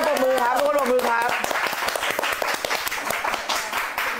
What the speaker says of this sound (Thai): ทุกคนปรบมือค่ะทุกคนปรบมือครับ